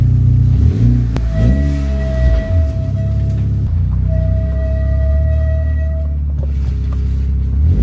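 A Mitsubishi Evo 8 with a suspected transfer case fault rolls along, its engine and drivetrain rumbling up close while a thin, steady squeak rises and falls over the drone, alone without speech.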